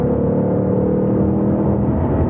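A 2022 Ford Mustang Mach 1 V8 engine roars steadily and loudly throughout, a deep continuous rumble with no pauses or voices.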